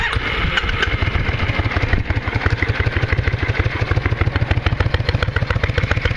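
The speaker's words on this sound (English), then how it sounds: "I'll do a quick demo of it running now." A Yamaha Virago cruiser motorcycle engine runs steadily at idle, its rapid, even pulsing close and loud throughout with no talk over it.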